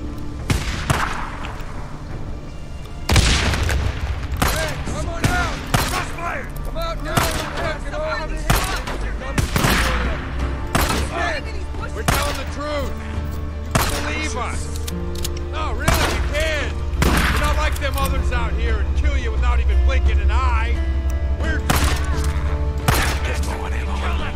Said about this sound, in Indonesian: Itu nembakin siapa bego?